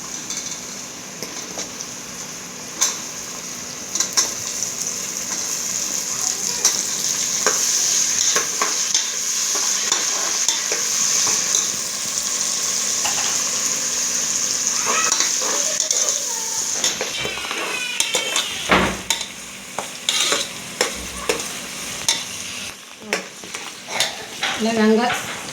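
Garlic and onion fry in a pan with a sustained bright sizzle while a metal spoon stirs and scrapes, adding frequent clinks and scrapes that grow busier toward the end. The sound is close and continuous, with no talking.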